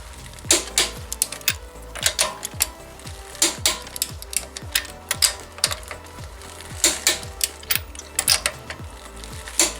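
Torque wrench set to 79 clicking repeatedly while tightening rear strut bolts on a Hyundai Elantra in a star pattern, sharp metallic ratchet clicks in quick bursts with brief pauses, close and clear with no talking.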